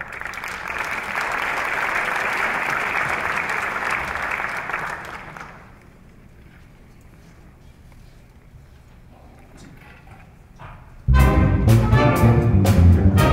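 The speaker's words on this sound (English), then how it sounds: "Join me in a round of applause" A gala audience applauds a show band: a broad, steady wash of many hands clapping for about five seconds, fading to low room murmur, then loud band music abruptly starts.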